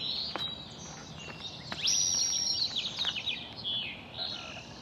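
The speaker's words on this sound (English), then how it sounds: "I hear the birds. They're really loud." Birds sing loudly at sunrise, with chirps and trills from several birds at mid distance over a steady outdoor background hiss, and no talking.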